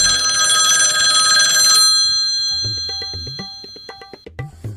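A telephone rings loudly with a bright, sustained trill in the manner of a quiz show phone-a-friend call, then short knocks and clicks of the handset being picked up follow.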